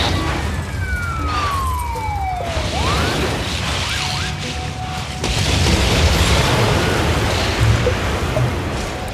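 Fire truck sirens in the city-building game SimCity 5, modded, with a falling and rising electronic wail heard over a steady, dense hum of game traffic and ambience.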